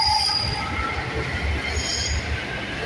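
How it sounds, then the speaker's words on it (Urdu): A Lahore Metro Orange Line train pulls away from a stop with a loud, steady rumble, and a high wheel squeal rises and fades over the rolling noise. "یہ بھی ٹرین یہاں پہ چل پڑی ہے"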